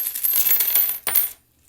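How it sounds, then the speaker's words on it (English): Coins shaken out of a piggy bank whose opening is closed with an old sock, a loud, close, continuous metallic jingle and clatter with a brief pause, then one more burst before falling silent. "I'm going to do is I'm just going to shake out a few of the coins"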